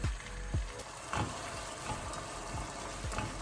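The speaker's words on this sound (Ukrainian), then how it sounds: "Маринад у нас почав кипіти, викидаємо цибулю" A pot of pickling marinade with sliced onion simmers with a constant bubbling hiss, soft pops and gurgles rising steadily, close and moderately quiet.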